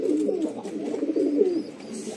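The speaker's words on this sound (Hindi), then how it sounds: "यहाँ पर आ चुके हैं कबूतर पानी पीने" Soft, low cooing of pigeons, repeated throaty warbles close by with faint background noise.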